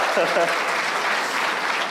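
Audience clapping at a live conversation event with sports figures, a dense, steady wash of many hands filling the whole stretch, with a brief voice and laughter at the start.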